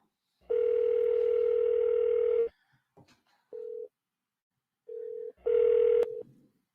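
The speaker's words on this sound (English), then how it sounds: "All right, let's dial Igor." A telephone gives a steady dial tone for about two seconds, then short tones follow as a number is dialed, ending in another burst of tone.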